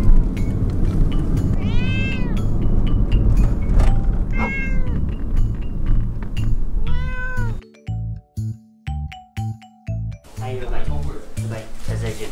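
A cat meows repeatedly in drawn-out, rising calls as it is put into a cat carrier, with people talking throughout and some clattering and handling noises toward the end.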